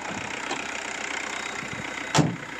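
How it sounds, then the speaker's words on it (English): A car engine idles with a steady low rumble, and a brief sharp click or knock sounds near the end. "So you just started the car"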